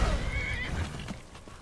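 A horse in the video game Skyrim whinnies with a rising, drawn-out neigh near the start, then snorts and shifts amid a few hoof clops, fairly close and loud with no talking.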